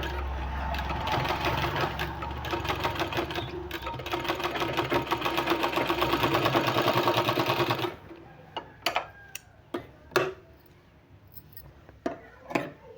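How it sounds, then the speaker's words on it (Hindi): A sewing machine stitches a sleeve with a new design, running in a loud, steady rapid whir for about eight seconds before stopping, followed by scattered clicks and handling knocks of fabric. "इसमें हमको एक बार इस तरह से सिलाई लगा लेना है।"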